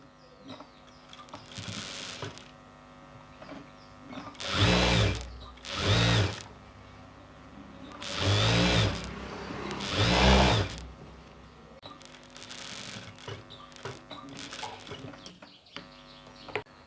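A sewing machine stitching a skirt runs in four short bursts of whirring motor and rapid needle rattle, with quieter handling noise between runs.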